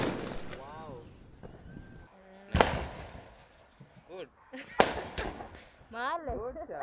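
Diwali firecrackers bursting nearby, two loud sharp bangs plus scattered smaller pops, with people chattering and exclaiming between the blasts.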